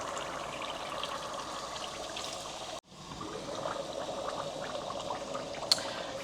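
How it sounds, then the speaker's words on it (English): Coconut milk is poured into a pan as a faint, steady liquid stream. After a brief pause the pour starts again and trickles on, with a small clink near the end. "now I'm going to add my coconut milk"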